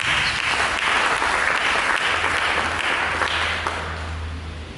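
Congregation at a church sermon bursts into loud, sustained applause, a thick roar of many hands that tapers slightly toward the end as a low hum emerges beneath it.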